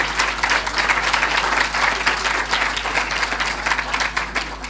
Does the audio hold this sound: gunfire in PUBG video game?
no